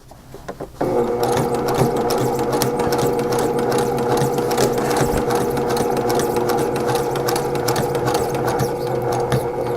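A sewing machine starts up and runs in a fast, steady mechanical chatter while stitching a cross pattern on a small patchwork tote bag strap, close and continuous after a few brief initial clicks.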